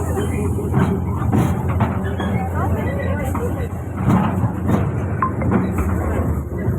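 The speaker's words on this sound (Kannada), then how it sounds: "ನಾನು ಇವತ್ತು ಮಹಾತ್ಮ ಗಾಂಧಿ ಪಾರ್ಕಲ್ಲಿ ಟ್ರೈನಲ್ಲಿ ಹೋಗ್ತಿದ್ದೀನಿ" A toy train carries riders through Mahatma Gandhi Park, a steady rumble with clickety rail rhythm heard from on board, while people talk close by over the running noise.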